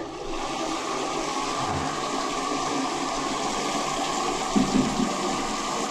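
Water rushes steadily through a backed-up toilet and bathtub drain line, a continuous loud gurgling flow with a few low glugs near the end.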